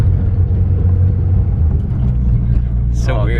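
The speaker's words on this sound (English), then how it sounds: "You can hear the turbo like really loud now." A lifted Chevrolet Silverado pickup with a turbo engine, 22x14 wheels and 35-inch tires gives off a steady, loud low rumble heard from inside the cab, ending with a brief voice.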